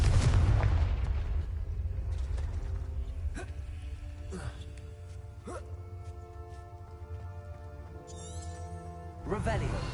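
Loud blasting-spell explosions from Confringo in the game Hogwarts Legacy, a heavy boom at the start and another near the end, with softer pops and rumbling in between.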